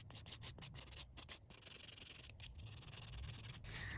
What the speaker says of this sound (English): Next, I'm lightly buffing the surface of the tips so the gel polish adheres better and lasts longer.